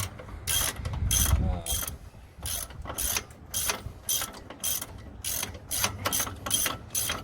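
Hand ratchet clicks rapidly in repeated bursts while loosening bolts on a Ford F250 with a 7.3 Powerstroke diesel, close and crisp with brief pauses between strokes.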